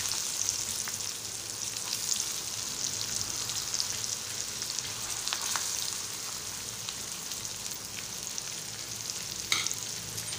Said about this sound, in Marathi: कांदा भाजेपर्यंत आपण 2 मिनिटं थांबणार आहोत।